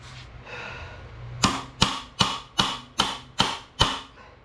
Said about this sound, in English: I've been taking a chisel and going through the springs and hammering onto the valve stem